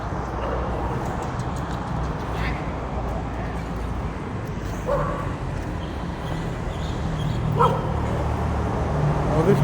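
A bow-legged dog in a neighbourhood under a Bangkok freeway gives a few short yips and whimpers over constant traffic-like rumble.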